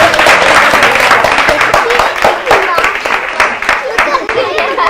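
An audience at a devotional home program applauds and cheers with dense rapid clapping that rises and falls for several seconds, mixed with voices speaking over it.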